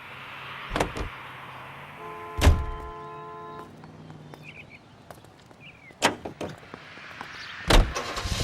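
A car in the L.A. Noire video game: a few heavy door thunks and a brief power-window whine over a low, steady engine hum, close and fairly loud with no talk.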